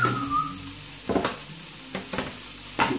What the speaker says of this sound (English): Just gonna brown these onions off.